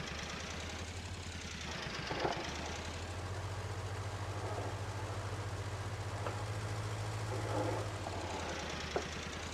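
Tractor engine in a farm survival video game chugs steadily near the listener with a low, rumbling drone throughout, the tone rising and thickening midway as it works under load, with a few faint clunks over it.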